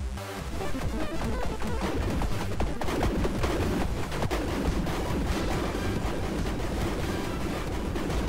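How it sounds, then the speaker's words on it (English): Explosions and laser fire in the arcade space shooter Arcadium Space, a dense continuous barrage of crackling blasts and booms at steady loudness, with no voice over it. "I got caught in an explosion, okay"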